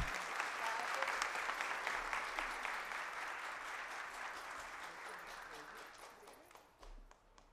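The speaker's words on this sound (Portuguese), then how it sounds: "E eu peço aplauso a Osana" An audience at a parliamentary front's inaugural meeting applauds a woman named Osana, a sustained even patter of clapping that gradually tapers off, with a few voices surfacing near the end.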